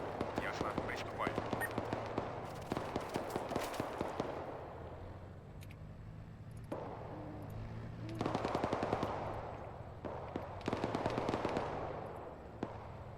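Automatic and single gunshots ring out in Arma 3 during a Soviet-Afghan War mission, bursts of rapid fire coming in waves over about thirteen seconds, some close and loud, others more distant, with faint voices underneath.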